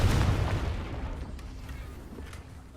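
Confringo fire spell blast in the video game Hogwarts Legacy: a loud, booming burst at the start that fades into a rumbling tail, with faint crackles afterward.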